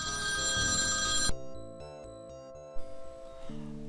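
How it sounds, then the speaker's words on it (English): A telephone rings in a computer game, a bright electronic ringing tone with bursts of melodic notes cutting over background game music, moderately loud and with no voices. "there goes my phone"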